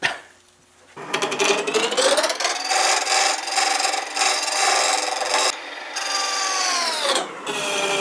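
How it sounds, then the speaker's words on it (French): Wood lathe making a shearing razor cut while turning a wooden funeral urn: a steady, loud, close rasping scrape that runs continuously for several seconds, with brief dips as the tool shifts. "Je préfère y aller avec la coupe rasoir parce que je suis très près de mes roues."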